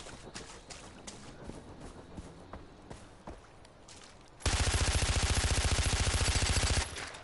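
Rapid automatic gunfire bursts loudly for a couple of seconds during Far Cry 4 gameplay, following quieter scattered footsteps and movement noises.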